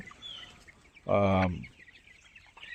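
A young Tiger chicken, about 26 days old, gives one short, loud call near the middle, set against quiet background chirps.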